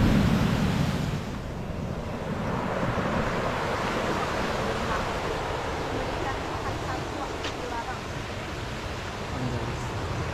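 Surf breaking on Batu beach in Banyuwangi, a steady wash of waves with wind buffeting the microphone, continuous and fairly close with no pauses.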